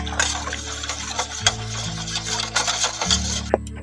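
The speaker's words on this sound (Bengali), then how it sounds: "সুজিটাকে দিয়ে ভালো করে মিশিয়ে নিচ্ছি দুধের সঙ্গে" Semolina being mixed into milk in a bowl for an eggless sponge cake, with irregular scraping and clinking of a spoon against the bowl, close and fairly quiet, amid steady low background hum.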